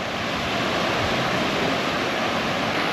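Ocean waves wash in steadily at Prainha Branca beach in Guarujá, a broad, loud, continuous roar of surf with no voices.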